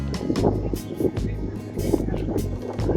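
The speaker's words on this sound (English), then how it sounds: "It's really windy." Steady low rumbling wind buffeting a microphone throughout in Edinburgh, with gusty surges and a few brief knocks, loud and close.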